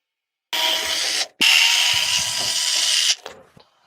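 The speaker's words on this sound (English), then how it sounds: "Finally, I'm grabbing my screwdriver." Screws being backed out of a Premiera T3S amplifier case with a power screwdriver, two loud, close whirring bursts split by a brief pause, the second one longer, then tapering off with small clicks.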